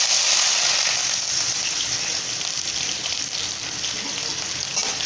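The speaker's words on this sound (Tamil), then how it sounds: "வெங்காயம் நல்லா வணங்கட்டும்." Onions and curry leaves fry in oil with popped mustard seeds for Tamil egg curry, a dense, rain-like hiss of sizzling that holds steady and close, with no voices.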